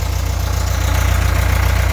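A 1971 VW Beetle Autostick engine idling with a slight knock, a loud close rhythmic low chug with steady pulsing throughout.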